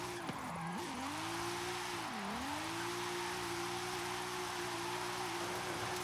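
A 2JZ-powered Camry NASCAR stock car drifts in Forza Horizon 5, its engine droning loud and steady with pitch dips as revs drop and climb, under a continuous tire squeal.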